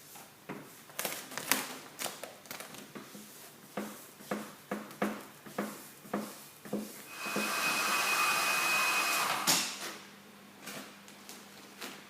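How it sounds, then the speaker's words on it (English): A heat gun warms car wrap vinyl on an Audi R8 GT3 bonnet, a steady blowing hiss that runs for a couple of seconds. Sharp taps and handling clicks from the vinyl being worked come before it. "we're going to actually use the heat gun to basically cause it to stretch"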